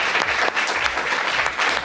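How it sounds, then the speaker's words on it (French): Audience applause at an evening conference on the history of artificial intelligence, a dense, steady clapping from a crowd sustained throughout the short span. "Je crois qu'on doit pouvoir vous applaudir pour votre accueil"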